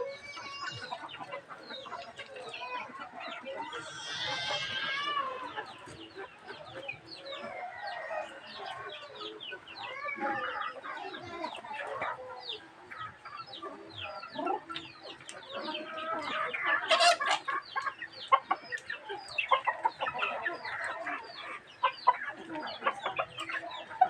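Backyard chickens cluck and squawk continuously, several birds close by with busy overlapping calls and a few louder outbursts, along with occasional crowing.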